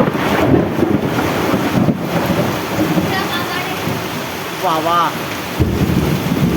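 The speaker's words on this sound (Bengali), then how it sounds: "এইটা হচ্ছে জোরে বৃষ্টি।" Hard rain falls on a village in Bengal with low thunder rumbling through it, loud and close, while a person speaks briefly and a couple of short vocal sounds rise over the downpour.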